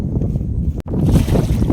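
Strong wind buffeting a small fishing boat out on a Godavari canal: a loud, low rushing roar broken by one brief gap of near silence, with no voices.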